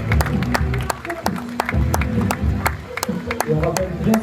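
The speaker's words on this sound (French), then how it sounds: "Un maximum d'applaudissements pour Estelle." A crowd at La Forestière 2022, an outdoor cycling race event, applauds race leader Estelle Morel with steady, dense clapping and cheering, while music or voices carry on underneath.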